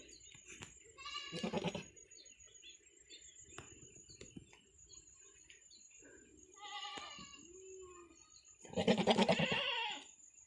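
A goat near a breeding buck bleats several times outdoors, with loud, close calls around two and nine seconds and quieter bleats between them, over faint insect and bird sounds.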